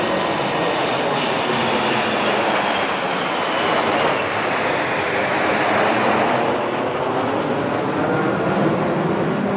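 Military jet aircraft flying in formation over an Indian Air Force air show at Chennai's Marina Beach, with a loud, steady roar that sweeps past with a shifting whine and fills the whole stretch.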